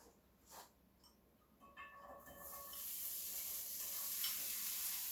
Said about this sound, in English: So I'm going to fry the onions and the garlic now